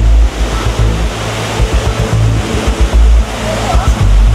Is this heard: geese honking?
no